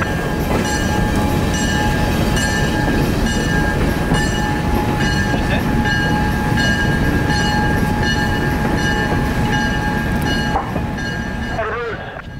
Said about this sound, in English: 251 would depart Willow Yard southbound with the newly painted Seaboard Coastline caboose in tow